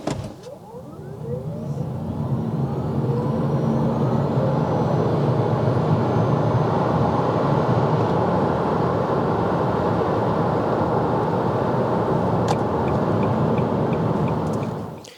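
A Nissan Leaf 62 kWh electric car accelerating hard, heard as a steady, loud rush of road and motor noise lasting about fifteen seconds, with a faint rising electric whine at the start and no talking.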